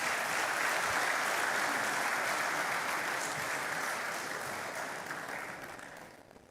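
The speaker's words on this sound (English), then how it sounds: "you can give them a round of applause" A graduation ceremony audience of executive programme graduates' guests gives a sustained round of dense applause that slowly fades toward the end.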